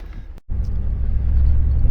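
A Jeep engine rumbles close by after a brief cut, its low drone steady and gradually building as it pulls away from a roadside recovery of a truck and trailer.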